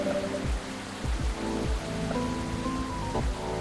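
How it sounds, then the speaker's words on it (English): Steady rain falls in the video game Coffee Talk, a soft, even patter with gentle tones underneath. It is fairly quiet and continuous throughout, with no voices. "Rainy, rainy day."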